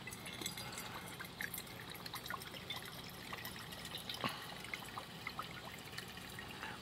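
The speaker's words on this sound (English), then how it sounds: "So we're gonna go ahead and just pour this in here." Old kerosene trickles and pours into a lantern fount at a workbench, a faint, steady liquid dribble with small drips throughout.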